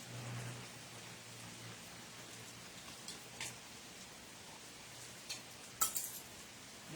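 Rain falling outdoors, a faint, even hiss of drops throughout with a few brief sharper taps and splashes standing out near the end.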